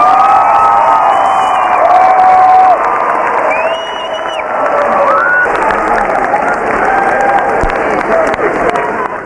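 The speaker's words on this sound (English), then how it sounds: "let's give them a great round of applause" Audience applause at a business coaching event, a full room clapping and cheering loudly and steadily throughout, with a few high whoops rising over the sustained crowd noise.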